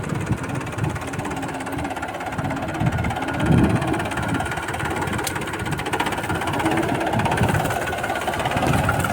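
An overloaded tractor engine chugs steadily and loudly throughout, a low rumbling idle with knocking vibration and no talking.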